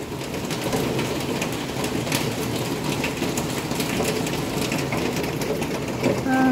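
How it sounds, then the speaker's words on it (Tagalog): Steady rain that is easing off, a dense, even hiss of drops on surfaces that holds constant throughout, with faint bird calls in the background. "Humina na yung ulan."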